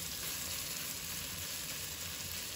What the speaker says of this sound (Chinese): 我们要把鸡胸肉放到锅里，给它煎一下，把它煎熟煎香